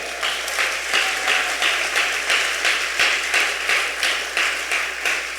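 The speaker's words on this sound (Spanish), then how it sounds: "Fuerte aplauso a nuestro Dios." Church congregation applauding steadily, a dense continuous clatter of many hands with slight rhythmic pulsing, filling the space for several seconds.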